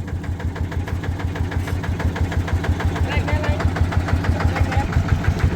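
A Yanmar TF120 single-cylinder diesel engine on a Mighty-X chassis farm vehicle runs close by with a loud, even, rapid thumping beat, while voices talk over it.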